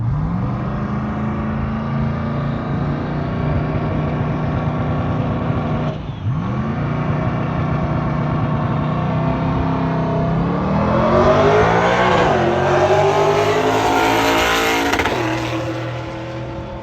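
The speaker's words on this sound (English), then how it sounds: "we're going to watch this car make a pass" A loud race car engine drones, drops briefly as it shifts, then revs up through rising gears and roars past at a race track, with crowd-like noise swelling underneath.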